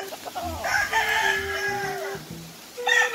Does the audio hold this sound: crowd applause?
no